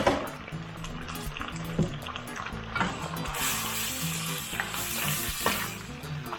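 Seafood pasta sizzling and frying in a pan, loud and close, with stirring scrapes and bubbling liquid throughout.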